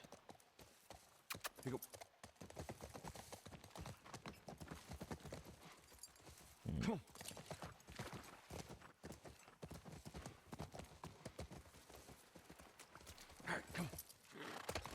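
Hooves clip-clop steadily as a horse is ridden in The Last of Us Remastered, a close, busy trotting rhythm under a player's talk.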